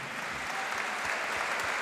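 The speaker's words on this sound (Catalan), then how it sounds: "Vull l'aplaudiment més fort per a 3 fenòmens de tota la vida del món de la pilota." Loud, dense audience applause in a hall at a tribute to pilota ball-game players, steady and continuous throughout.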